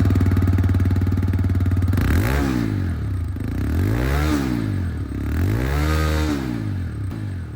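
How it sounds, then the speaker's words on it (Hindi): A 2023 TVS Raider 125 BT E20 motorcycle engine idles steadily, then is revved three times, each rev rising and falling in pitch, loud and close with no talk. "इंजन की जो आवाज़ है सबसे पहले मैं आप लोगों को यहाँ पर जो रेडर है उसकी सुनाना चाहूँगा।"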